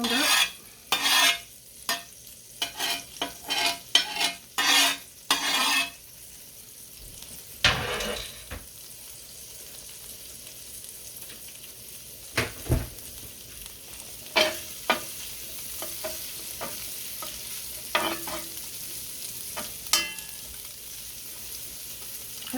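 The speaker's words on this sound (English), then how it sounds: "I have onions as well. Get those browned up." Ham and onions browning in a cast-iron skillet, with a run of sharp scraping stirs at the start, then a quiet steady sizzle broken by occasional clinks of the utensil against the pan.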